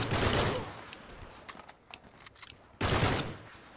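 Gunfire in Uncharted 3: a loud burst of rapid shots opens, followed by scattered sharper reports and a second heavy burst near the end, no voices over it.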